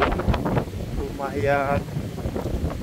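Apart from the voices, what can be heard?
strong wind blowing in the morning at Waisai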